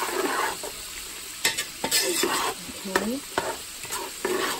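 Butter melting in a pot as a whole sliced stick is stirred in during fried chicken prep, with a soft sizzle and scraping stir strokes close by and a brief spoken word.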